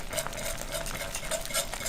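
A whisk stirs a slurry briskly into vegetable soup at a full boil, giving a continuous close swishing and scraping with faint bubbling beneath.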